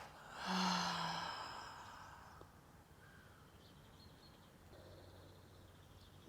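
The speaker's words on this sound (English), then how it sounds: "Exhale through the mouth." A single long, breathy exhale through the mouth during a prenatal yoga class, close and fairly loud at first, then fading into quiet room tone.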